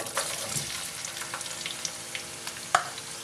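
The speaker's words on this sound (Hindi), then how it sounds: "थोड़ा सा फ्राई करते हैं।" Soft, steady sizzling of finely chopped onion frying in oil in a kadhai, with faint crackles and a brief clink near the end, quiet and close, with no talking.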